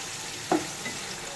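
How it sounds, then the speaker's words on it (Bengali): Chopped beans, carrots and green chillies fry in a pan with a continuous sizzle and one short stirring scrape partway through. "সবজিটাকে এবার একটু ভেজে নেব।"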